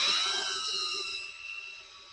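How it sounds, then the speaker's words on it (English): A high-pitched whirring drill fitted with a brush spins steadily cleaning carrots and then winds down over a couple of seconds, close by with no talking. "put a brush onto a drill and gave it a whirl"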